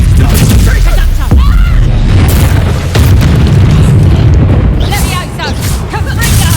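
A Reducto spell blast in the video game Hogwarts Legacy goes off as a loud booming burst, set among other spell impacts and a continuous roar of combat noise.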